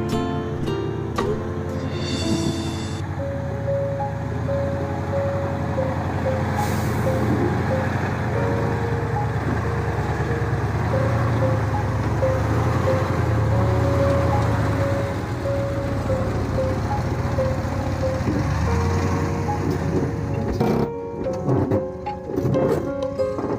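A loaded sugarcane truck crawls along slowly in extra low gear, its engine a steady low drone throughout with road noise, close and continuous.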